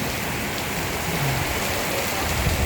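Steady rain pouring down in an even, close hiss of drops on surfaces, with no break throughout.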